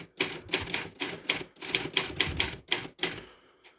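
A typewriter dampened with 1.5 cm thick yoga mat foam clacks through a quick run of keystrokes, roughly eight bursts in steady rhythm, close and fairly muted, with no voices.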